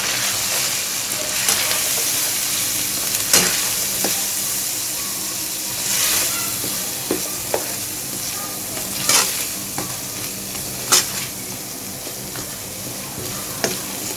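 Turmeric, salt and cumin powder being stirred into spinach chicken frying in a pot, a steady loud sizzle with irregular sharp scrapes and knocks of the spoon against the pan, no talking.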